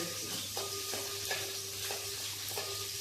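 Onions frying in a pan for fish curry, a steady soft sizzle under a low hum, with a spoon scraping and stirring in regular strokes about every half second, close and quiet.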